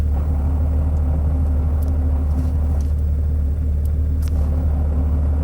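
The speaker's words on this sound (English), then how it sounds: "transmission's going to spin up, but you're going to hear all the gear lash" A Porsche 911 R engine idles in a steady, low rumble, with a faint mechanical rattle of transmission gear lash and a few light clicks above the drone.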